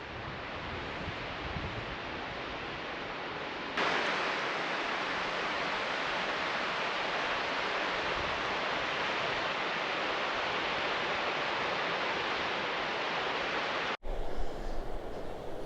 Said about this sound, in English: Nice waterfall there.